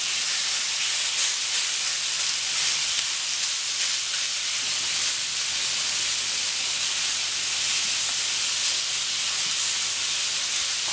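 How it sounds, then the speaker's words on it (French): Duck aiguillettes sizzle on a very hot plancha at 250 degrees, a steady, loud, dense hiss that holds unbroken throughout, with no voices. "Et la plancha, elle est bien bien chaude, elle est à 250 degrés là. Ça se voit. Ça se voit, ça s'entend"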